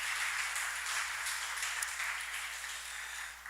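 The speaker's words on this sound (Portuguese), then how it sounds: "eu queria pedir uma salva de palmas ao Senhor" A church congregation at a Brazilian Baptist service in DF claps together in a bright, sustained round of applause that holds fairly steady before easing slightly, with no talking over it.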